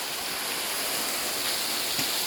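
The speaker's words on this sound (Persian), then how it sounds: "نزدیک آبشار." A waterfall at the mouth of a strange cave gives off a steady, close rushing roar of falling water that fills the whole stretch, with no talking.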